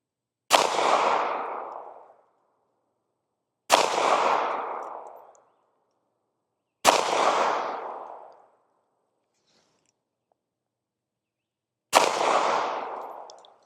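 Four single gunshots from a Ruger LCP MAX pistol firing Federal ammunition ring out at a slow, even pace, each a sharp close crack with a brief decaying echo.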